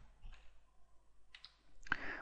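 Soft computer mouse clicks at a desk, a few faint taps followed by a sharper click near the end, in a quiet room.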